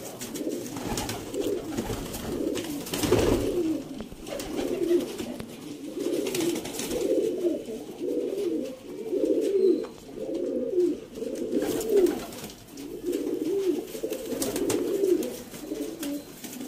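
Sialkoti pigeons coo repeatedly in soft, throaty rolling phrases, a steady rhythm of low calls close by with faint background noise.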